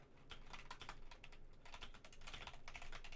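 Rapid, uneven clicking of keys on a DrunkDeer mechanical keyboard, quiet and close, with no voices over the typing.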